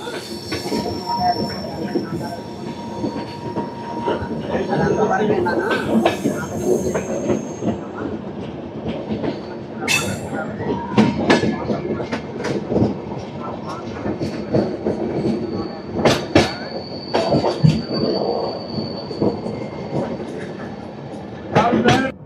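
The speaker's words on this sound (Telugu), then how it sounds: "మన ట్రైన్ అయితే డీప్ కర్వ్ అయితే తీసుకుంటుంది" A train on the Visakhapatnam–Araku line rounds a deep curve, rumbling along the track with rhythmic clatter and sharp metallic wheel squeals, while voices chatter nearby throughout.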